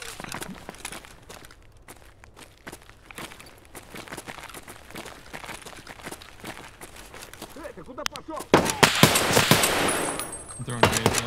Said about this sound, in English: he's shooting at me right there